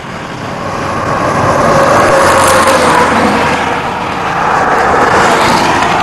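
Steady engine and road noise from a car in motion, a broad continuous rumble with a faint rising whine, loud and close throughout.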